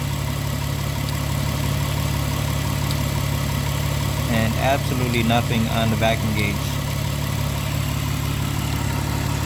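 A Mitsubishi Eclipse engine idles steadily inside a garage, a constant low hum running through the whole stretch while someone talks close by over it.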